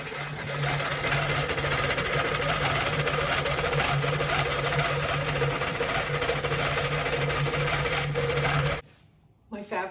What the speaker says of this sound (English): All right, back to stitching.